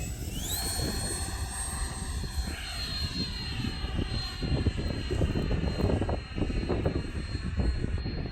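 A 95-inch Funscale F/A-18C radio-controlled model jet on its maiden flight on a cold day, its turbine whining loud and sustained with rising and falling pitch as it passes, and no voices.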